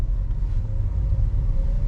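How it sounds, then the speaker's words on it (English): A 2022 MG ZS with a 111 hp petrol engine rolls out of a large garage at night, a low steady engine rumble with a faint faint hum above it and no talking. "soon we will be departing this rather huge garage and going on a nice relaxed drive"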